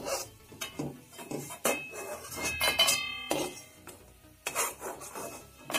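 Fried dried bombil fish is lifted from the pan onto a plate with a series of sharp scraping and clinking metal utensil knocks, irregular and close, with no talk.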